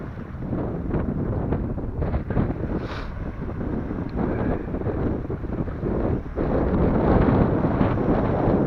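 Strong wind on a sunny fishing outing buffets the microphone in continuous low rumbling gusts, swelling louder toward the end, with no voices.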